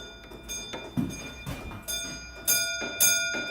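A railway signal box bell at Rowsley is rung through an interactive exhibit, giving a series of short, spaced bright rings against a quiet room.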